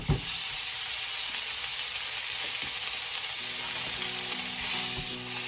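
Ground beef with salsa sizzles and browns in a pan, a close, steady frying crackle with a few light scrapes and taps, no voices.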